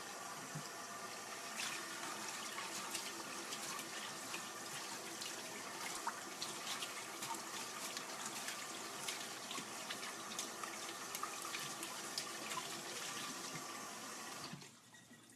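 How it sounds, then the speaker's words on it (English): Tap water runs steadily into a kitchen sink as a cast iron pan is rinsed, a continuous close splashing hiss with no talk. "that's just rinsing with water"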